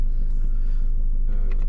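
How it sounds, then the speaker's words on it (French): A car engine in a driving-school car starting up and idling, a steady low rumble heard from inside the cabin with a few faint clicks. "Et ben on est parti, on va mettre en route le moteur."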